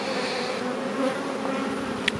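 A honeybee colony buzzes steadily around a hive after bees are shaken from a small nucleus box, a dense close drone with a brief sharper whine near the end.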